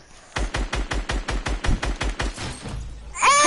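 Rapid automatic gunfire in a video game, about a dozen evenly spaced sharp shots in a fast rhythmic burst, loud and close, with a brief clattering sound right after it ends.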